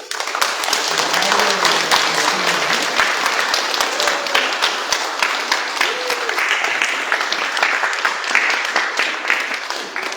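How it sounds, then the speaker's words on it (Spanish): Wedding guests in Livingston, Guatemala applaud loudly at the end of a church Mass, dense continuous clapping filling the space for the full stretch, with faint voices murmuring beneath. "Yo creo que merecen fuertes aplausos."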